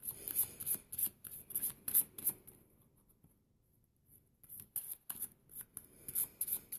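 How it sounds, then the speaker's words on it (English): Deck of cards being shuffled in quick crisp riffles and slides, close and soft, with a brief quiet pause midway before the shuffling resumes. "as I'm shuffling these cards"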